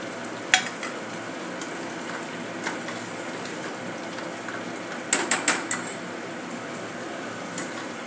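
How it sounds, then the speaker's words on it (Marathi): A spoon stirs red chana gravy as it fries in a pan, giving a soft steady sizzle broken by a few sharp scraping clinks against the pan, one early and a quick cluster later. "आता हे सगळे स्टर्न करून घेऊया."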